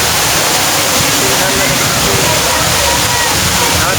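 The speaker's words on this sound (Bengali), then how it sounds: "আমার পিছনে দেখতে পাচ্ছেন কৃত্রিম ঝর্ণা" Artificial waterfall at Safina Park in Rajshahi pours in a loud, dense, unbroken roar of falling and splashing water close by, with voices faintly present beneath.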